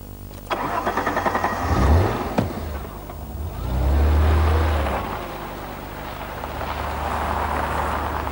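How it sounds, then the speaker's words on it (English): An Alfa Romeo V6 engine cranks and fires, then revs up in a couple of rising surges before settling into a throaty, snarling idle. "I've always loved the Alfa V6 unit. It's got a lovely exhaust snarl to it"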